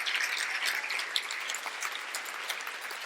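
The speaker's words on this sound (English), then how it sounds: "Can we give Nick and his whole team a big round of applause for the extraordinary job?" An industry event audience gives a big round of applause for the event organizer and his team, dense sustained clapping from many hands filling a large room, steady throughout with no voices over it.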